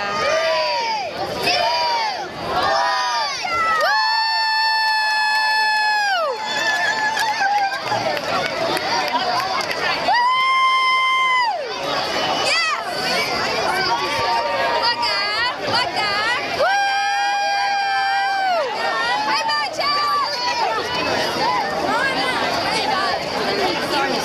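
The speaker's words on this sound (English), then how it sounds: "And then this is all of our crowd support here." Crowd noise at the start of a 5K race, with continuous chatter, cheers and whoops nearby, some loud, sustained shouts standing out, and people talking throughout.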